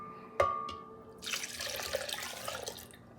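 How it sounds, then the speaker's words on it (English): Regular milk poured from a container into a blender for a Spanish flan, a soft splashing liquid stream after a brief knock, quiet and close, with no talking. "We're going to add 12 ounces of regular milk."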